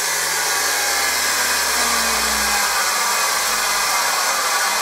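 A valve grinding machine runs with a steady, loud whirring drone and broadband hiss, its low motor tone wavering slightly in pitch, with no talking.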